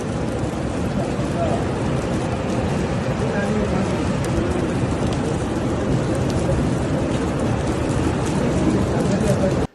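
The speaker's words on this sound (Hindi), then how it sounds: "शदीद बारिश ने उथल पुथल मचा दी है" Heavy rain pouring steadily in a storm in the Manyara region of northern Tanzania, a dense loud hiss throughout with a low rumble beneath it, cutting off at the end.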